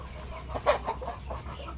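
Backyard chickens clucking softly while pecking at leftover cooked rice, a few short clucks rising over a steady low hum, close and moderately quiet.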